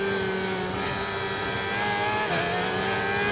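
A racing motorcycle in a RIDE 4 track race accelerates hard with a loud, sustained high-pitched engine whine that climbs steadily, and a rear tyre skids briefly partway through.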